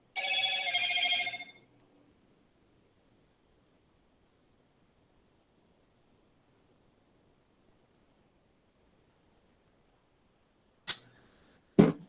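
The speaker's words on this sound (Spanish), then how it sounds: "voy a bajar el volumen del celular un segundito." A cell phone ringtone sounds loudly for about a second and a half during an online criminal law class, then cuts off into near silence, with two brief clicks near the end.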